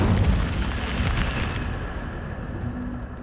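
Incendio fire spell cast in Hogwarts Legacy, a loud burst of roaring flame that whooshes out at the start and fades into a lingering rumble.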